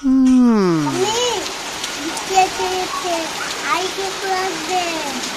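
Steady rain falls on a surface throughout, a constant wash of drops with a voice and other speech rising over it at the start and scattered through.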